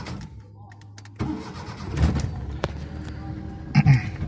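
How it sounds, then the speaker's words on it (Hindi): A car engine cranks and catches with a sudden loud onset, then runs at a steady idle, close by with brief bumps of handling noise. "गाड़ी में बैठूँ अभी और बस गाड़ी को स्टार्ट करना है"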